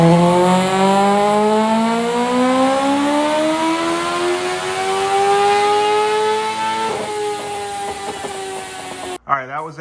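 A turbocharged 1-liter Honda CBR1000 engine in a Mazda Miata screams through a dyno pull on 5 psi of boost, its pitch climbing steadily for several seconds before cutting off, then brief clatter and a short burst of noise at the end.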